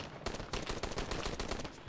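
Rapid tap-fired gunshots from the video game Call to Arms, a dense burst of sharp cracks in quick irregular succession, loud and close with no talk.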